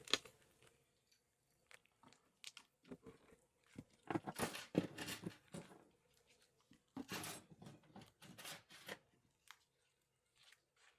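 A small board inside a Wii console being nipped at its corner, heard as faint, sharp crunching snips and clicks in scattered bursts against near silence.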